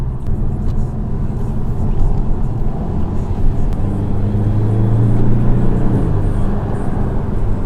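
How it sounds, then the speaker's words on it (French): A Porsche 718 Boxster S turbocharged flat engine in sport mode drones low and steady while driving, rising into a stronger pull with a humming tone toward the end. "les turbos soufflent bien"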